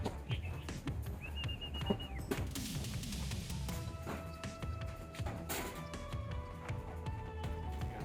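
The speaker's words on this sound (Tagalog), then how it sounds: "Eh mga ibon natin, nandun sa bubong." Birds perched on a roof chirp and whistle in short bright phrases, fairly near, over a busy background with occasional clattering knocks.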